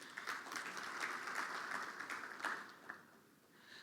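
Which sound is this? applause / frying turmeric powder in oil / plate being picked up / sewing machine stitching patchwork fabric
applause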